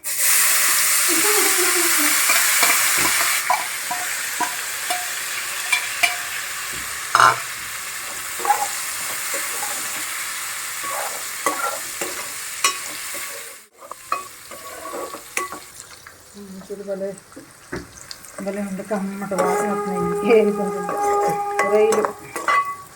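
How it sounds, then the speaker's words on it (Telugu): Eggs frying in oil for an Andhra-style dried prawn and egg curry: a loud, continuous sizzle with frequent stirring, utensil clinks against the pan, a brief lull midway, and a voice briefly near the end. "ఇలా బాగా వేయించుకోవాలండి నూనెలో కొంచెం దాకా వేయించుకోవాలి ఇదిగో ఏగుతున్నాయి గుడ్లు"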